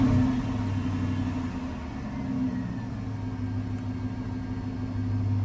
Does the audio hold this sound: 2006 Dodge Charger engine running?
yes